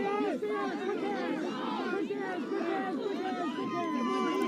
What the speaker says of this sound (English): Stephanie's cheering on her teenage daughter here.